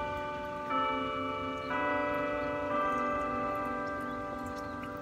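Church bell of Holy Trinity Catholic Church rings out in a few spaced, sustained strokes whose tones hang and overlap, heard at moderate distance over a low background hum.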